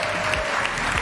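Audience applause for two robotics teams at the end of a match at the Coupe de France de Robotique finals, a dense, steady wash of clapping from a large hall crowd, loud and unbroken.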